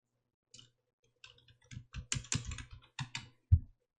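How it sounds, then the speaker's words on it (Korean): Irregular bursts of keyboard typing, keys clicking in short clusters at close range, ending with one firmer keystroke. "내용 타이핑 하십니다."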